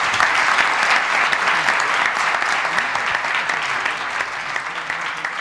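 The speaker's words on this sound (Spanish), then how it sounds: "Pues un aplauso para Carlos" Loud, sustained applause for Carlos from an audience at a trading seminar, many hands clapping in a thick, continuous wash that fades slightly toward the end.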